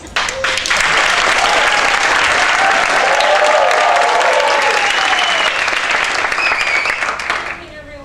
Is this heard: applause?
yes